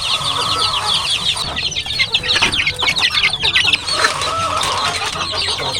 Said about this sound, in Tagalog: At saka po yung mga sisiw dito na para mga bagong pisa din po.